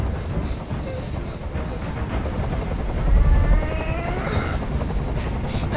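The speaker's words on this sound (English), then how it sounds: "I can't stand that noise anymore. Tell that helicopter to get out of here." A video game helicopter's rotor thumps and drones steadily at mid distance while hovering, swelling a little louder partway through amid a dense rumbling background.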